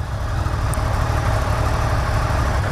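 A Yamaha XSR900, a retro-styled 847cc motorcycle, idles steadily with a low, even engine rumble throughout, close and alone with no talking.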